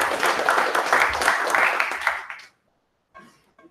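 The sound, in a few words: applause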